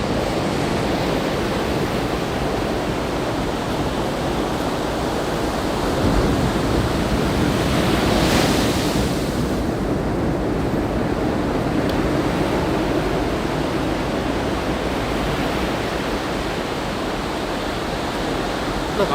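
Ocean waves breaking at Shonan Hiratsuka beach, a continuous broadband surf wash with a swelling crash near the middle, steady and fairly loud, with faint wind.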